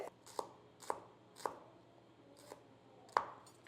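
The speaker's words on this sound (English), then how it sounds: "So I just want to slice them up pretty thin." Large shallots sliced thin on a cutting board, quiet, close knife taps in an uneven rhythm, about six crisp chops.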